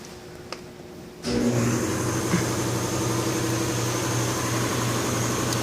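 An old restored tractor engine with battery ignition and no thermostat, cardboard blocking its radiator in cold weather, idles steadily after a quiet start, a loud, even, close chugging hum with a faint clatter.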